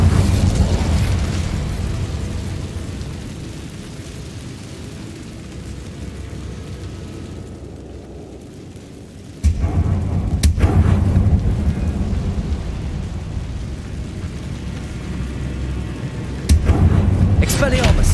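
Fiery Incendio spell blasts in Hogwarts Legacy: loud booming bursts over a dense game soundscape, with sharp onsets near 9.5 and 16.5 seconds after a quieter dip.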